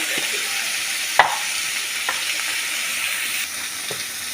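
Raw tomatoes sautéing in ground spice paste in a pan for a puti fish recipe, a steady close sizzle with a few soft stirring scrapes and one sharper clack, no voices.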